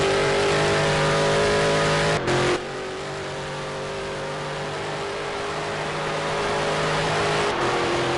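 A Corvette race car engine roars loudly and steadily at Road America, holding a sustained high-revving drone with a brief dip partway through before building again.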